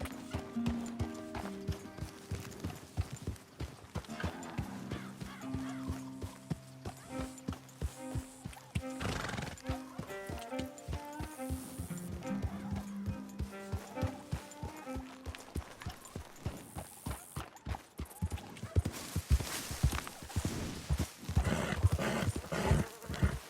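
A horse in Red Dead Redemption 2 snorts and whinnies close by while hooves clip-clop in a steady walking rhythm, with occasional louder bursts of movement toward the end.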